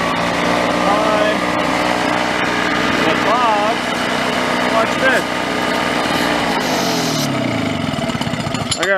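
A small gas leaf blower engine with a leaking carburetor gasket revs loud and high, buzzing steadily with slight wavering pitch, then drops off near the end.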